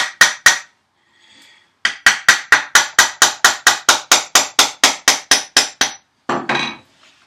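Tongue and groove wood boards on a woodie restoration being tapped together with a hammer, a steady series of about seventeen sharp, evenly spaced knocks after a couple of opening taps, close and loud.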